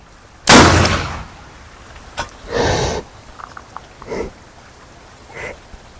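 A homemade spirit-fuelled firecracker (mercon spiritus) blasts from a jumbo tube into a blue barrel with one sharp, loud boom. Smaller pops and thuds follow over the next few seconds.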